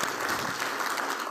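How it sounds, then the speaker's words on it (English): Quick round of applause from a user summit audience for the marketing and audio-video team, a dense steady patter of many hands, fairly loud and uninterrupted for its brief length. "if we can give them a quick round of applause"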